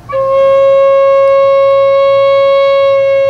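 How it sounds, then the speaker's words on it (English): Sustained pipe organ principal pipe tone, one steady note with clear harmonic overtones, loud and held alone for several seconds after a quick onset. "the principal is the main organ sound"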